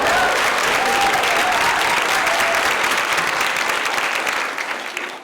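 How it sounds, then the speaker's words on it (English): Lecture-hall audience claps loudly and steadily for several seconds, a full crowd's applause that tapers off slightly at the end. "And let's give my mommy a round of applause, too"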